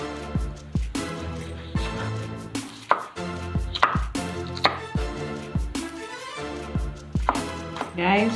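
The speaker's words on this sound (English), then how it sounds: "chopping them into bite sizes" Broccoli chopped into bite-size pieces with a knife on a cutting board, a steady run of close, crisp thunks about once or twice a second.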